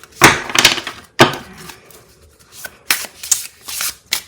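Tarot cards being shuffled by hand in several bursts of papery riffling and flicking, close and fairly loud, separated by brief pauses with no talking.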